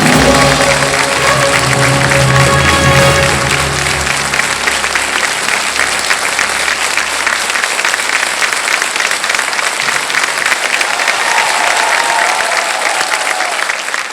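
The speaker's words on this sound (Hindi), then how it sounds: "ताली सब लोग बजा रहे हैं," Studio audience on an Indian TV quiz show claps loudly and steadily for about fourteen seconds, a dense sustained wash of applause with no talking over it.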